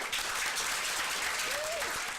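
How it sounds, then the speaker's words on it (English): Thunderous applause at a Pittsburgh city council bill signing for gun legislation, steady, dense clapping from a packed room throughout, with faint voices underneath. "A thunderous applause"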